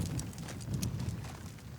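Horses move about a corral while riders sort bison, hooves thudding and clopping irregularly on the ground, moderately near with rumbling low movement throughout.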